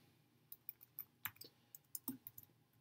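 Keys on a computer keyboard tapped in short irregular bursts while a caption is typed, quiet and close with no talking.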